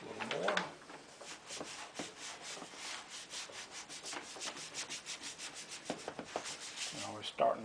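Control panel overlay for an Asteroids multigame cabinet rubbed down by hand, soft continuous rhythmic swishing strokes close up, fairly quiet, with no talking.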